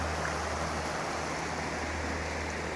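Steady rushing water flows nearby, a constant broadband wash like a creek, with no voices.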